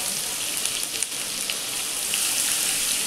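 Grated garlic fries in hot oil with cumin and asafoetida, a steady, close sizzle like dense hiss and crackle, heard alone with no talking.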